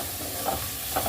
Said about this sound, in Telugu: ఆనియన్స్ బాగా పచ్చివాసన పోయి ఆనియన్స్ మంచిగా వేగేదాకా తిప్పుకోవాలన్నమాట.